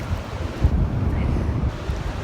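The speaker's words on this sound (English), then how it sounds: "Look at that. The Pacific Ocean. What a beautiful thing." Pacific Ocean surf washing onto the shore with steady wind buffeting the microphone, a continuous low rumble of breaking waves and gusts with no talk.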